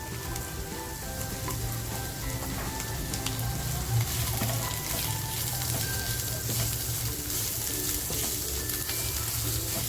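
Onion frying in a pan with chili and ginger added, a steady close sizzle with faint stirring crackles, moderately quiet and continuous, no voices.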